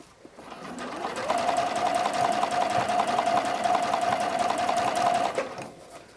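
A sewing machine stitches the cradle of a bralette in one steady run of about four seconds, rapid even needle rhythm starting and stopping cleanly, close and alone.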